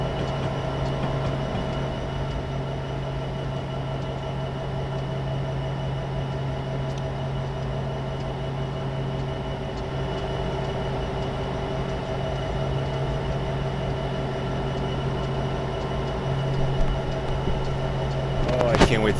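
A BNSF SD75M diesel locomotive in Train Simulator 2016 holds a steady, loud engine drone with a strong low hum and tonal whine throughout, brief knocks near the end.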